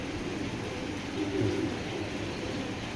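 Giribaz pigeons coo softly, a low murmuring coo rising briefly in the middle, heard close but faint beneath a steady background hum.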